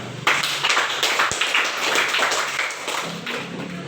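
Hands clap in a classroom, a burst of quick, fairly close claps that continues evenly for a few seconds with one sharp thump near the start.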